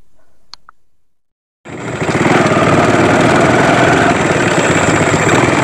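A boat's motor starts abruptly after a quiet moment and runs loud and close, a steady rumbling drone on open water during a fishing trip in Kalimantan.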